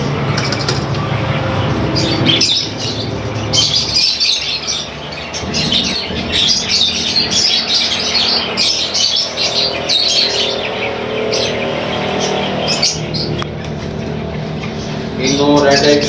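Green ringneck parakeets chirping and squawking in cages at a bird market, a dense, continuous chorus of shrill calls with a vendor talking underneath and faint traffic noise.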